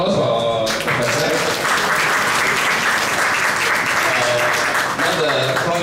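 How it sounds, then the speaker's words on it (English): Audience applause after a lecture on conserving the cosmopolitan hybrid heritage of Melaka, a dense, loud, sustained clapping from a room of people that runs steadily for about six seconds. "Can you give another round of applause for Professor?"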